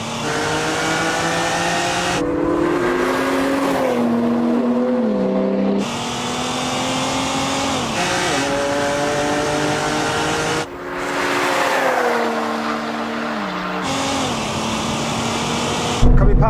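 A car in a rolling race in manual mode with a nitrous-equipped tune, its engine loud and close, rising in pitch through repeated acceleration runs broken by several sharp gear changes.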